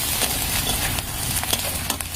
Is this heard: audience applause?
no